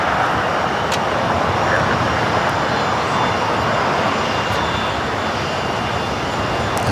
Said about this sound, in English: That is a Gulfstream G150 coming from Madeira